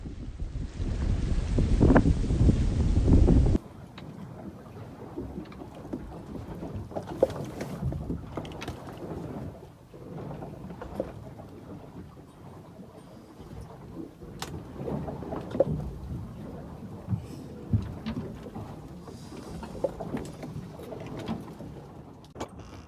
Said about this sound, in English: The swells are about 5 meters and wash over the boat regularly